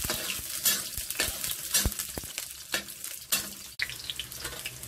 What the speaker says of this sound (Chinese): 爆香的蒜头爆到微黄，葱头和姜比落去